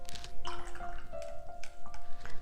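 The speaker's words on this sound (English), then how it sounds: "Wash your brush," Chinese painting brush swished and rinsed in a water pot, brief splashy dripping and clinking sounds with small tonal rings, close and fairly quiet, no talking.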